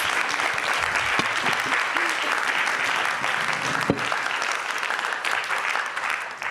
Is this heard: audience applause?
yes